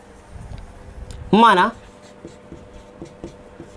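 Marker or chalk strokes on a classroom board during a physics lesson on motion in a plane, a steady faint scratching running under a teacher's talk, which swells briefly in one louder spoken burst.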